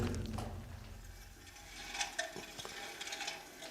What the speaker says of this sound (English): There were these air pumps inside that actually worked.